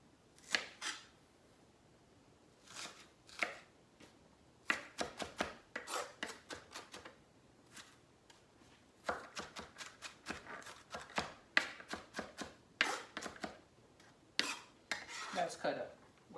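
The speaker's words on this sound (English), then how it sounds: "So we got all our vegetables cut up" A knife chops vegetables on a cutting board in close, sharp bursts of quick knocks separated by short pauses, with no talking.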